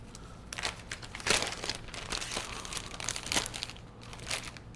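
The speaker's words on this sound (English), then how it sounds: "Get your trusty Ziploc bag." A heavy-duty plastic Ziploc zipper bag is handled in a kitchen, giving bursts of crisp crinkling and rustling close by, swelling and fading over a few seconds with no talk.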